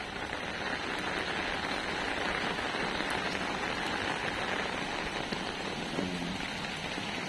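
Rain falls steadily on a road, a dense even hiss of drops hitting the surface throughout, close and constant with no talking.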